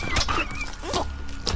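A dog in The Last of Us Part II video game gives a few short, sharp barks and whimpers amid game sound effects, heard in brief bursts at moderate loudness.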